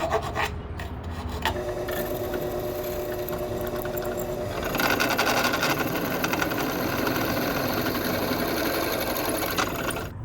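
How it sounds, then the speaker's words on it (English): A metal file cleans up a freshly cut edge during a repair on a Linear Limo recumbent bicycle. The file makes a continuous, close, gritty rasp of quick repeated strokes that grows a little harsher midway, with no speech. "So I'm just going to clean this up with a file."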